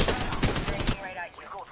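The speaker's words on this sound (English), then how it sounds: "Maybe a shooting nearby." Automatic gunfire in the battle-royale video game Apex Legends during squad play, a rapid burst of shots for about a second, followed by quieter game sounds and faint talk.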